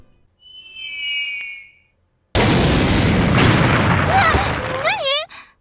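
Raisin's ship crashes into Reimu's roof in the Touhou Genso Wanderer video game, a brief eerie whistling tone followed by a loud, sustained crashing roar with rising and falling whistles, loud and close.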